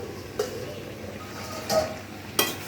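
A spoon stirs bottle gourd and egg curry in a pan, giving three short, soft scrapes spaced about a second apart over a faint low simmer, with no talking.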